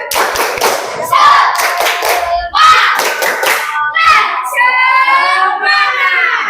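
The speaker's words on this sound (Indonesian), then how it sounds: "Tepuk semangat dulu" Children in a classroom doing a rhythmic clapping chant, the tepuk semangat cheer, with bursts of hand claps alternating with sung and spoken children's voices throughout.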